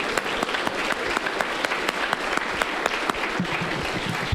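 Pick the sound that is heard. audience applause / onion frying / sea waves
audience applause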